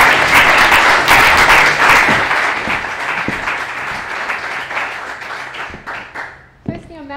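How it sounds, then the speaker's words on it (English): Loud audience applause welcoming someone speaker back onto the stage at a business talk event, dense clapping that gradually thins out into scattered individual claps before fading. "Can we please give her a big round of applause?"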